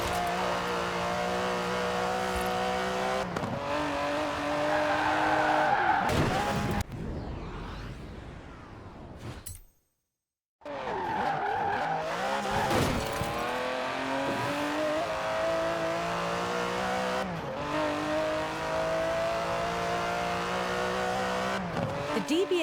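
Aston Martin DB11 with a 5.2-litre twin-turbo V12 in Forza Horizon 4, its engine droning steadily with rising and falling revs and shifts, loud and close, with a brief cut to near silence midway.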